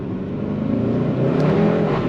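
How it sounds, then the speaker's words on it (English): From inside a 2023 Hyundai Sonata N-Line with the window cracked, the exhaust gives a muted, steady drone under acceleration, mixed with road and cabin noise and no talking. "We're gonna open the window a little bit, so you get a little bit of that exhaust sound"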